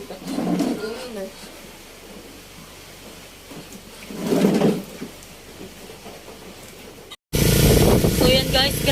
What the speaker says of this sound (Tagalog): grabe kalakas ng ulan